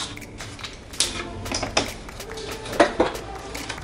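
Scissors cutting through a plastic detergent bottle, giving a series of sharp crisp snips and crackles at irregular intervals, fairly close, with faint speech in the background.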